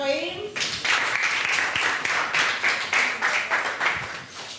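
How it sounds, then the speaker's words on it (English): Moderate clapping from a small group breaks out after a brief spoken line at the start, with several uneven bursts of hand claps pulsing over about four seconds before fading. "Can you clap for him?"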